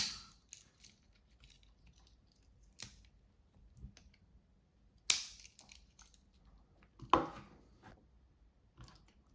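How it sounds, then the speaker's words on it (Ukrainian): A Victorinox Spartan pocket knife having its tools snapped closed: several sharp, close clicks spread out with quiet gaps, two of them louder than the rest. "при закриванні інструменту чути приємний е, такий фірмовий звук"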